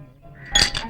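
Coins taken out and clinking, a brief bright metallic jingle of a couple of quick clinks close by in a quiet indoor setting.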